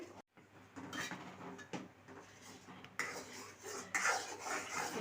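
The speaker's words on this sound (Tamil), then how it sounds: "லைட்டாக கிண்டி கொடுத்துக்கிட்டே இருங்க இல்லைன்னா அடிச்சு பிடிக்கும்" Ghee with drumstick leaves stirred in a metal pot, quiet scraping and clinking of a spoon against the vessel in irregular strokes, close, with a faint sizzle underneath.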